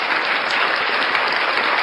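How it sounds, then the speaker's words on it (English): Hand clapping from a small group, a dense, brisk burst of applause that runs steadily for a couple of seconds. "That deserves a full clap from me."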